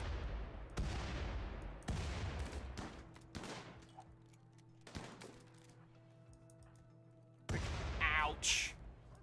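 Grenade blasts and gunfire in the colony-sim game RimWorld: a string of loud, sharp bursts with decaying tails, several in the first few seconds and another heavy burst near the end, with soft tones between them and a voice talking over parts.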